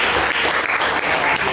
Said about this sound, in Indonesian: boleh tepuk aplaus dulu untuk kita semua